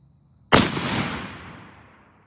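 A single sharp rifle shot from a 6.5 Staball load, a loud crack at close range followed by a long decaying rumble and echo over quiet surroundings.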